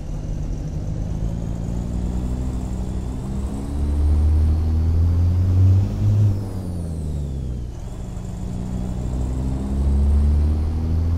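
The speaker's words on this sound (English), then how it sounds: "Listen to that engine, that is awesome." A Volvo race truck with a 2400hp engine in American Truck Simulator, the engine a deep, loud drone that rises in pitch as it revs, drops sharply at a shift, then climbs again, with no talk over it.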